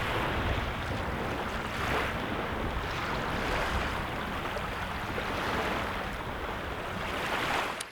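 Steady surf rolls onto a big sandy beach in the wilderness, with cobbles on one side and a small lake and stream behind it; a continuous wash of waves swells and recedes at moderate distance, with some wind noise and no voices.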